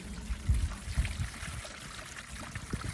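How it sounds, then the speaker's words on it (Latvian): Water is poured through an opening into the outer container of a self-watering plant pot, a soft, close splashing and trickling that runs steadily with small gurgling bursts. "Tātad šeit, pa šo atveri, mēs piepildam ar ūdeni."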